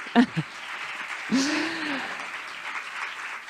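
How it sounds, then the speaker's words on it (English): Audience applause at a conference on gender-perspective innovations breaks out after a short burst of speech and continues as a steady, moderately loud wash of clapping, with a voice briefly audible over its start. "Another applause, please."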